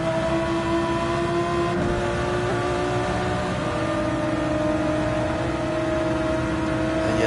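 Lamborghini engine in a racing video game, a steady loud droning whine with sustained tonal hum held at high revs throughout, no pauses or talk.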